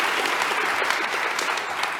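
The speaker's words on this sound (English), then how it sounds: "can I get a round of applause for everyone at Jam, Matilda, Seb, all the team, Sunil." An audience at a design talk applauds steadily for about two seconds, a dense even wash of claps with no speech over it.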